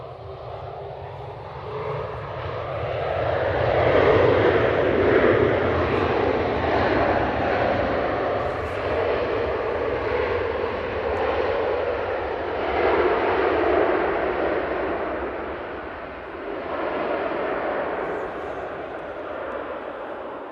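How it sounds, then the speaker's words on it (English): A jet airliner arriving from JFK lands at Manchester Airport and spools up its thrust reversers. A deep, loud roar swells, holds, then eases away and rises briefly again, without any voices. "So, I'd say average reverser action there."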